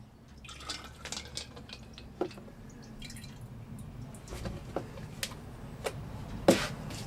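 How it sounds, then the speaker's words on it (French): Pottery glaze is poured into a grinding mill in a ceramics workshop: faint dripping and splashing over a low, steady rumble, with no talking. "On verse l'émail."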